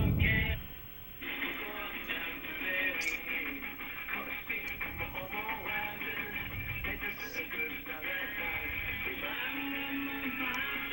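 A Japanese-language version of a song plays from a television, heard at moderate volume and slightly muffled across the room, with a steady vocal melody over a busy backing that continues without pause.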